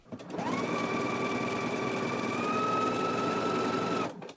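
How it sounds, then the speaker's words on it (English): A sewing machine zigzag stitches a neckband onto a knit dress, a steady motor whine with a fast mechanical chatter running for about four seconds, close and alone. "let's go ahead and do our stitching now. And I will be using a zigzag stitch to stitch on the neckband"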